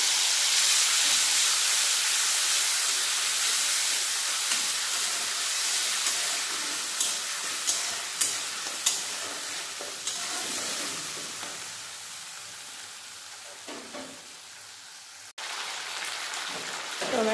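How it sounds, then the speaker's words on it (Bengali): A paste of tomato, ginger and green chilli fries in oil, tempered with a whole dried red chilli and cumin seeds, giving a steady sizzle with occasional stirring scrapes and taps. "টমেটো, আদা, কাঁচা লঙ্কা ভালোভাবে ভাজা হয়ে গেছে"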